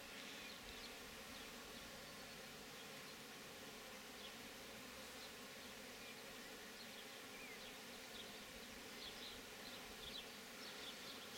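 Bees buzz steadily around oilseed rape flowers in an April garden, a faint, continuous drone of many insects with passing individual hums and no talk.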